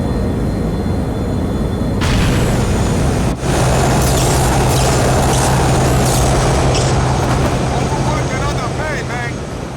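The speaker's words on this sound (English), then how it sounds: "And miraculously doesn't die when half the plane explodes" A plane exploding in Grand Theft Auto IV: a sudden loud blast with a broadband burst, then a sustained roaring engine and wind rumble with a steady low drone and crackling debris, loud throughout.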